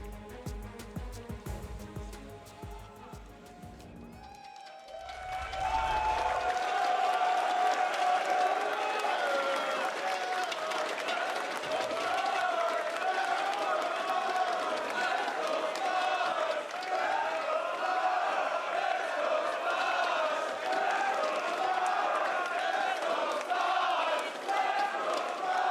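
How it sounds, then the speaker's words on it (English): A large arena crowd at a League of Legends Worlds 2019 esports match between Splyce and FunPlus Phoenix erupts into loud sustained cheering and applause after a brief stretch of music and commentary, the roar swelling and holding for about twenty seconds. "The crowd here"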